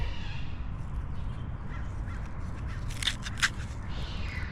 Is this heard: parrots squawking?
yes